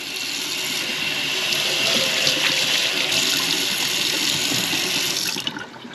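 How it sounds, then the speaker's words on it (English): Water splashes and drips steadily as damp drain filters from a Fiat 124 Spider or Mazda MX-5 ND are squeezed out by hand, a close, continuous wet gush that tapers off near the end. "Just squeeze the water out of them."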